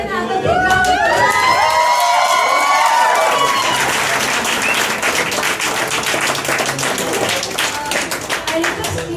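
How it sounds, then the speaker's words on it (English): Wedding guests at Juvaid and Ayesha's celebration cheer with rising whoops and children's shouts, then break into loud, sustained clapping that fills the room. "Let's again have a big round of applause."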